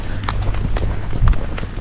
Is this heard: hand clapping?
no